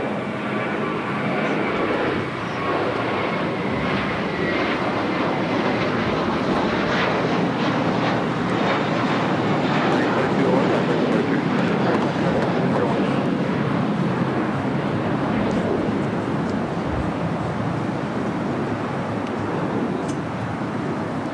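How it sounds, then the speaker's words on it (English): A Japan Airlines Boeing 787 Dreamliner, Flight 61 bound for Tokyo Narita, lands at Los Angeles airport, its broad jet engine roar rumbling steadily and loudly for the whole stretch without any talk. "This is Japan Airlines 787A Dreamliner heading to Tokyo Narita, Flight 61."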